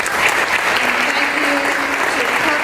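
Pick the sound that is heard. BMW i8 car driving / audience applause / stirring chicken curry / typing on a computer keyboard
audience applause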